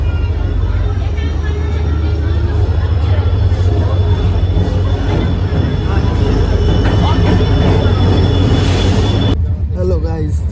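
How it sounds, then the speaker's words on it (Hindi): A train pulls into a packed station, its low rumble continuous and steady under a constant roar of crowd noise. "फ्रेंड्स फाइनली अपनी ट्रेन आ गई भाई"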